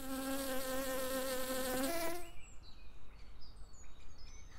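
A honeybee buzzes loudly and steadily close by, its pitch dipping as it moves off. Faint birdsong follows over a constant outdoor hiss.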